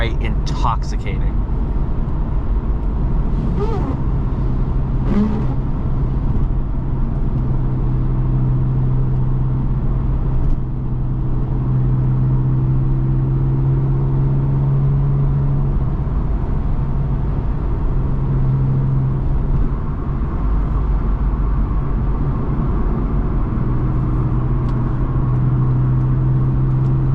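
A 2008 Porsche 911 Targa 4S (997.1) with manual gearbox drones steadily with a deep, continuous flat-six rumble, heard from inside while driving.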